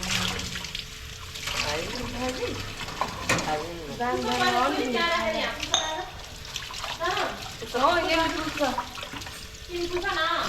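Water splashes and sloshes in uneven bursts nearby as it is thrown during Tihar festival celebrations, while people talk over it.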